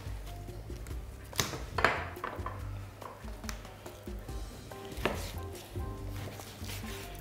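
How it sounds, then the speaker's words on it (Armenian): A knife chops beef tenderloin into portions on a board, sparse heavy thuds spaced unevenly over a quiet low kitchen hum, with no speech. "Հարմար չափաբաժինների ենք կտրատում։"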